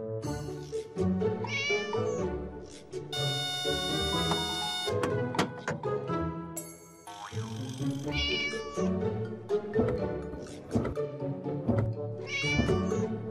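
A cartoon cat meows repeatedly in bright, rising calls over a busy score of music and sound effects, the mews coming in bursts at the start and again near the end.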